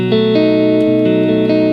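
A dominant seventh chord rings out on guitar, strummed several times with each strum left to sustain and overlap, clear and close with no voices.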